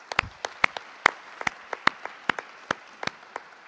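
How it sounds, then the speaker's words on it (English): Audience at a tech summit clapping in a small, sparse scattering of individual claps, fairly faint and distant, with no talk over it. "Big applause for the strategic committee of the DTS."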